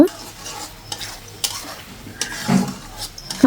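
Rohu fish belly pieces with onion are stirred and fried in a pan, giving steady close sizzling with repeated scraping strokes of a spoon against the metal, no talk.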